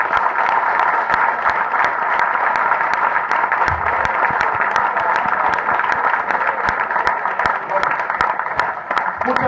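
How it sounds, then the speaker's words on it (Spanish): Lecture-hall audience applauding a physicist after a talk on relativity theory, steady dense clapping with sharp individual claps throughout, loud and sustained with no pause. "Bien, un aplauso al doctor."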